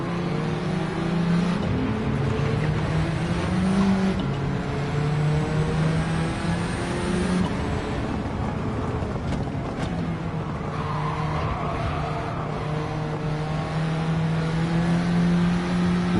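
A front-wheel-drive car with a K20 engine swap in Gran Turismo 7 accelerates hard, its engine note climbing and shifting in steady pulls with tires spinning, loud and continuous, with no talking.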